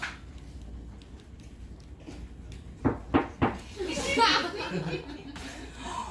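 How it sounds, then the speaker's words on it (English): Three sharp knocks on a door in quick succession during a staged folk comedy performance, followed by voices and laughter from the audience. "they heard just knock at the door"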